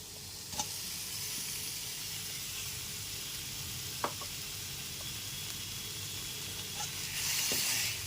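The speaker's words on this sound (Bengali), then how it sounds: "এরপর এর মধ্যে ভেজে রাখা গাটি কচুগুলো দিয়ে দিচ্ছি" Fried gathi taro (kochu) goes into a pan of sautéed spice masala, giving a steady hiss and sizzle with a few faint clinks of stirring, swelling briefly louder near the end; no talking.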